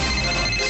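A phone on a radio show's call-in line rings once, a brief, steady electronic tone heard alone at close range.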